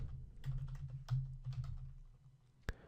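Fingers tap a computer keyboard entering a file name, a quick run of soft, close keystrokes in a quiet room, ending with one sharper key press.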